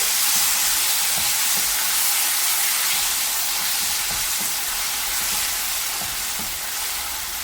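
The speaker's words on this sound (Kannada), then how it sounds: "ಮಸಾಲ ಹುರಿದು ಪೇಸ್ಟ್ ಮಾಡಿ ಇಟ್ಕೊಂಡಿದ್ದೀನಿ ಅದನ್ನು ಹಾಕ್ತಾ ಇದ್ದೀನಿ" Fried masala paste sizzles in a pan on low flame for a Mangalorean fish curry, a steady loud hiss with faint scraping taps of stirring underneath.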